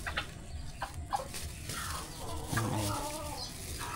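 Pet chickens clucking while they feed, soft close clucks and murmurs scattered over a low steady background, with no talk.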